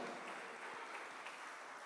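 Church congregation clapping together in steady, dense applause, continuous and even throughout the short stretch.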